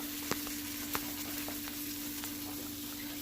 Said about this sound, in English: So we just want to basically toast this tomato paste so it doesn't taste raw